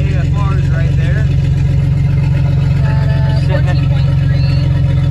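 A turbocharged Nissan 280Z engine idles steadily, its low pulsing drone continuous and close throughout, with someone talking over it.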